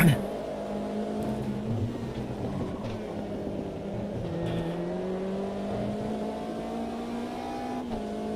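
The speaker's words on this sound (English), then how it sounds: "I'm feathering the throttle like crazy" A race car engine in a sim racing game drones steadily with a sustained, slightly wavering pitch as the throttle is feathered, with a faint rise near the end and no clear speech over it.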